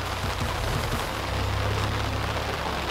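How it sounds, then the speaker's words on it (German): Steady rain falling during a carp fishing session, a continuous dense hiss filling the whole span with no pauses or voices. "Man kann ja sonst nichts machen bei dem Regen."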